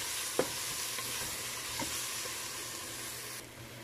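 Chicken with tomato paste sizzles steadily in a frying pot over low heat, with a few soft scrapes of stirring, quiet and close, no voices.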